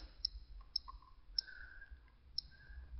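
Sharp, faint clicks from typing on an iPod Touch or iPhone on-screen keyboard tick four times at uneven intervals over a quiet low hum, with no talk.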